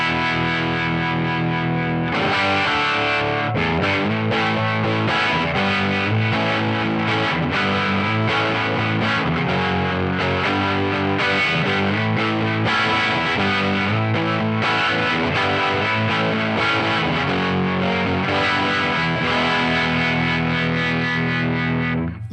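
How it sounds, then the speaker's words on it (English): An Elemental Jazzmaster electric guitar runs through two amps with overdrive, giving a loud, continuous distorted tone with chords and notes played steadily throughout, no voices. "Back to the Elemental Jazzmaster, and the same sound sounds like this."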